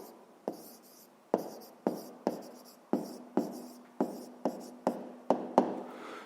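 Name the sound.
handwriting a conclusion in a notebook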